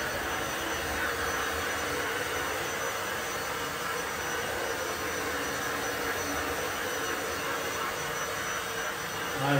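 A Bosch Unlimited 7 Pro Hygienic Aqua cordless vacuum cleaner runs with a steady, continuous whining roar, close and even in level throughout, with no talking.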